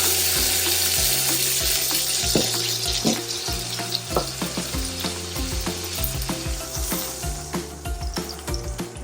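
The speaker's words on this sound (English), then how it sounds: "We're gonna sear for about 30 seconds." Duck breast sears in a hot pan with a steady, loud sizzle and crackle that holds throughout, with small pops and a low tonal hum underneath.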